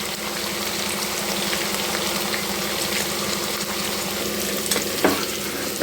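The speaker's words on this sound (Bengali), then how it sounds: "এখন দিয়ে দেবো পেঁয়াজ কুচি, লঙ্কা কুচি, আদা রসুনের পেস্ট দিয়ে দিচ্ছি।" Chopped onion, chili and ginger-garlic paste fry in a pan for chicken khichuri, giving a steady, dense sizzle and crackle that holds close and loud throughout, with a brief louder spit toward the end.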